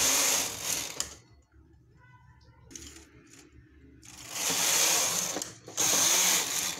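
A punch card knitting machine knits a skirt, its carriage sweeping across in loud, close bursts of whirring, ratcheting clatter separated by quieter pauses with faint handling sounds.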